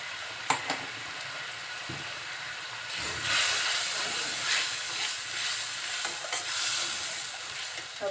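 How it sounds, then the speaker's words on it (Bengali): Ground spice masala with coriander and chilli powder fries in oil for a katla fish bhuna, sizzling steadily while a spatula scrapes and stirs it in irregular strokes close by. "সবকিছু দিয়ে এখন মশলাটা খুব সুন্দরভাবে কষিয়ে নিব।"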